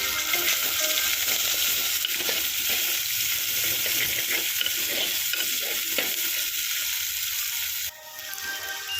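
Onion and green chilli with curry leaves and salt sautéing in a pan, a continuous close sizzle with scraping stir strokes throughout, briefly quieter near the end.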